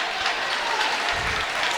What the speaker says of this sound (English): And the crowd is clapping.